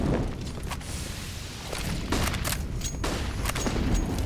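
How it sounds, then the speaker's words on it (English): A grenade blast and scattered gunfire echo in Counter-Strike on the Inferno map during a competitive match, with several sharp booming impacts spread across a steady, noisy game background. "that nade does a lot of damage into top mid"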